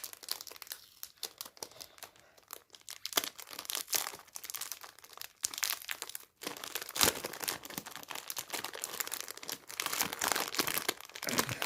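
Plastic packaging on a GAN 356 i carry smart cube being opened, with continuous close crinkling and crackling plus occasional tearing, broken by brief pauses, and no speech.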